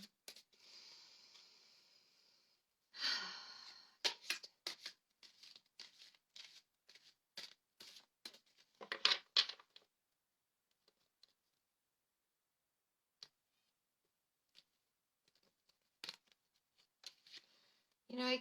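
Tarot cards are shuffled in bursts of crisp riffling and flicking, broken up by pauses and scattered soft taps, close and fairly quiet.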